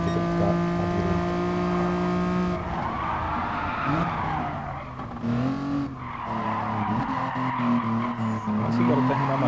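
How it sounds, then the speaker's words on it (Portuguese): Tires squeal loudly through a racing car's corners in the video game Gran Turismo Sport, a sustained screech over engine drone, with someone talking over it in places. "Mas eu sei pelo barulho do pneu também"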